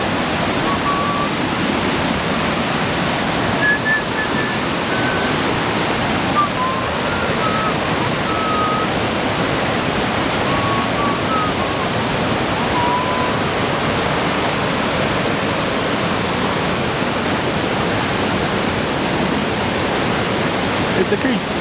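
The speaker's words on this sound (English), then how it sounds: "It's a creek." A flowing creek rushes nearby in a steady, loud, unbroken wash of water noise that lasts the whole time.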